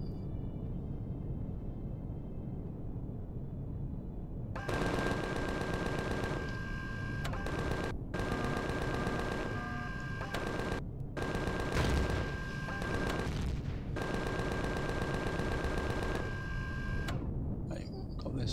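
Gunfire in an assault on a drone base in the sci-fi survival game Empyrion Galactic Survival, with dense rapid bursts of shots starting a few seconds in and running steadily with short pauses, near and loud over a continuous background rumble.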